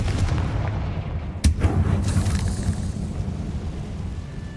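A single sharp Confringo spell blast from Hogwarts Legacy bursts out partway through, ringing over a steady rumbling game ambience that continues before and after.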